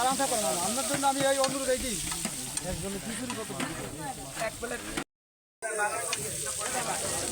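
Food sizzles in hot mustard oil at a roadside breakfast stall serving hilsa khichuri, a busy continuous crackle, with voices and stall chatter mixed in and a brief dropout partway through.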